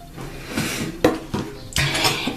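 A bowl and spoon being handled nearby: a few clinking knocks and scrapes of dishware, with a sharp clack around the middle and another toward the end.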